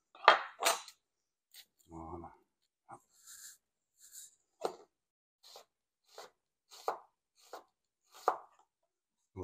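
Onions being chopped on a board by hand, a handful of sharp, separate knife strikes spaced irregularly with quiet gaps between them, and a brief voice in the middle.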